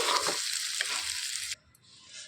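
Fenugreek leaf chutney cooks in a hot oil tempering, making a loud, dense sizzle that stops abruptly partway through and leaves only a faint, thin hiss behind.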